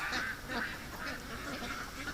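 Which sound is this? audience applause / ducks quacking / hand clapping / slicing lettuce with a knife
ducks quacking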